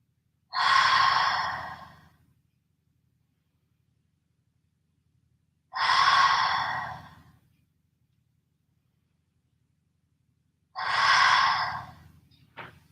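Three slow, deep breaths taken during a seated twist stretch on a chair, each a long airy inhale-exhale lasting about two seconds, separated by quiet pauses, close and clear with no talking.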